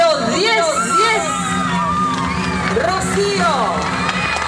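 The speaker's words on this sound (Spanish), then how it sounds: "Y aplaudimos a la participante número 10." A large crowd cheers and whoops loudly at a city queen pageant proclamation as a contestant is presented, with shrill shouts and voices rising over steady applause-like noise.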